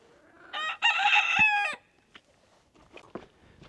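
A rooster crows once, loud and close, on a small farm in cold weather, followed by faint scattered clucks from the hens.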